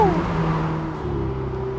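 A loud Ferrari 488 GTB twin-turbo engine revving, its pitch dropping quickly from a high rev and then holding a steady, deep drone.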